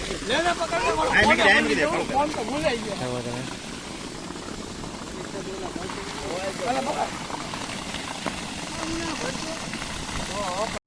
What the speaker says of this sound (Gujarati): અત્યારે પાણી ભરાય છે ટાંકેથી.